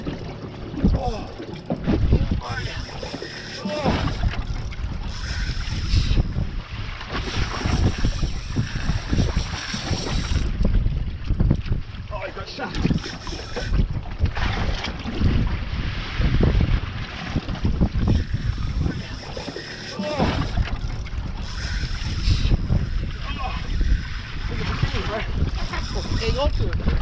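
Gusty storm wind buffets loudly in long surging bursts on a small fishing boat with an outboard, with water and boat noises and occasional shouted voices in the mix.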